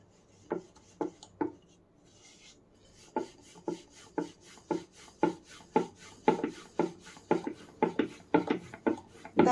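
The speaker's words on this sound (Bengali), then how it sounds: "এখন শুকনো আটা দিয়ে আমি একটা রুটি বেলে নেব।" Dry-floured flatbread dough rolled thin and round with a rolling pin, giving a steady series of soft scraping, rubbing strokes that repeat close up and speed up slightly toward the end, with no voices.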